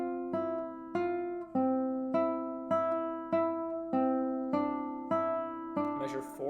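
Measures four and five of a piece on guitar: a repeating pattern of plucked chords, each attack ringing and decaying in an even rhythm, played quietly with no voice over it.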